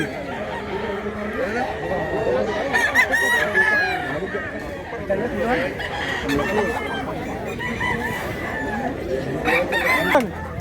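Chickens at a Cebu poultry market, with roosters crowing repeatedly and hens clucking in a dense, busy chorus while people talk nearby.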